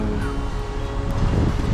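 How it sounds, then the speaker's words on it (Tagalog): Strong wind roars and buffets the microphone in a constant low rumble, with rustling in the background and no voices, outdoors in Banff, Alberta. "Lakas kasi ng hangin."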